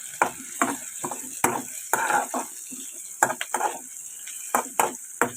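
Bottle gourd and coconut pieces for chutney being fried in a pan, with repeated sharp scrapes and clinks of a spatula against the metal over a soft sizzle, close and clear, coming in irregular bursts.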